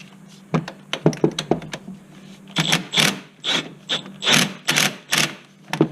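A hand ratchet works a bolt during a front wheel bearing replacement on a Chevy Malibu, giving close, loud bursts of clicking strokes, first quick and short, then longer repeated pulls.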